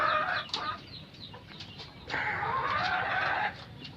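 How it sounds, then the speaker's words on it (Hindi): Gold Bantam chickens in a rooftop coop cluck and chatter close by, with several short bursts and a longer run of clucking in the middle, no talking. "ये गोल्ड बैंटम गोल्डन कलर में।"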